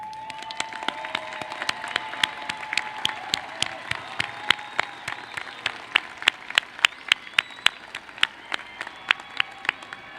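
Commencement audience applause at a university graduation ceremony, sustained clapping from a large crowd with sharp individual claps standing out, steady and fairly loud throughout.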